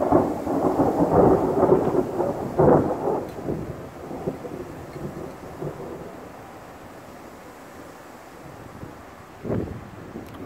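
Thunder rumbles through a sudden lightning storm with rain, loud bursts early and again near the end, fading to a low wash of rain and wind between.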